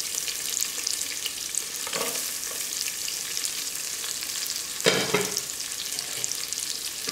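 Small onions and curry leaves fry in a pan for kodo millet kitchadi, a continuous close sizzle with two clear spoon-stirring scrapes partway through.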